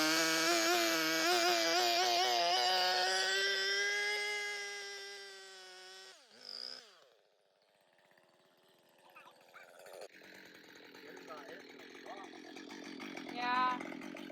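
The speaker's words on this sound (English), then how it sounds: "I'm gonna do my best to try to cut this thing with the chainsaw" Chainsaw cutting through a gnarly pine slab for a mantle, engine roaring loud and steady for about six seconds before cutting off, followed by quieter rustling and shuffling noises.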